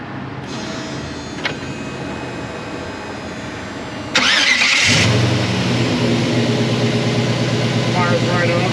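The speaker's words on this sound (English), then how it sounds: "we'll fire this Vortec up" After a faint click, the Chevrolet Vortec 5.3 V8 in a 1969 Chevrolet C10 pickup cranks briefly, fires loudly, and settles into a steady rumbling idle with a slight rev.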